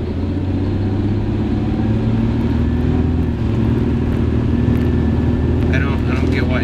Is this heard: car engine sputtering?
yes